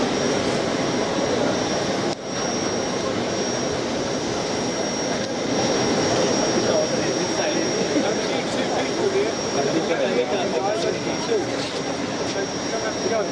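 A jet airliner's engines roar steadily and loudly as the plane arrives carrying royal visitors in Kumasi, Ghana, with crowd noise and speech underneath throughout.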